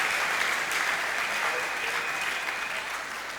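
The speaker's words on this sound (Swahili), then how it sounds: "Banaume tumpikie Bwana makofi." Men in a church congregation applaud together, a dense, steady burst of clapping that fills the space at close range and fades slightly toward the end, with no speech over it.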